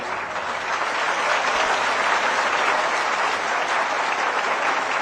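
A big audience claps loudly and continuously, a dense wash of hands building slightly and holding steady.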